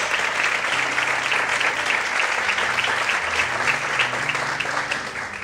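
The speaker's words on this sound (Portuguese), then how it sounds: "Mais fortes palmas para Deus." A church congregation applauds in a sustained, dense burst of clapping that fills the room and holds steady before easing slightly at the end.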